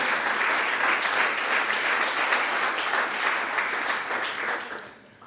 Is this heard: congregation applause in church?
yes